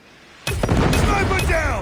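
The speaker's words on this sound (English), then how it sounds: "Friendly Predator missile inbound." A Predator missile explodes in the game Call of Duty Mobile, its loud broadband blast bursting in suddenly and rumbling on, with a voice briefly cutting through near the end.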